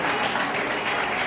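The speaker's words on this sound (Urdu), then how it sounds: "آئیں زوردار تالیاں بجائیں" Church congregation applauding during a service, a dense burst of clapping from many hands, loud and continuous across the whole short moment.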